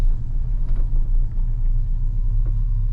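A Sierra or Silverado pickup with a swapped 4L80E transmission, its engine bogging under heavy load with the torque converter locked, gives a steady, deep, loud rumble that barely changes throughout, with no voices.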